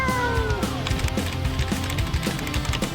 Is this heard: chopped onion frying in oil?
no